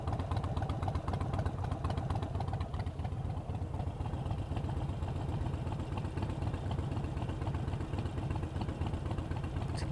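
A denim black Harley-Davidson Iron 883 idles through Vance and Hines Shortshots exhaust with a close, steady, lumpy rhythmic rumble of even pulses and no voices.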